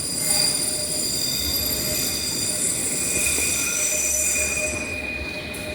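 A London Underground District Line train pulls into a platform, its wheels letting out a steady high metallic squeal over a low rumbling roar that holds loud throughout, no voices present.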